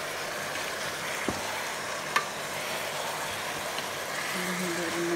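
Chicken adobo with turmeric being stirred in a frying pan, a steady sizzle with a couple of sharp utensil knocks and a faint tonal hum rising near the end.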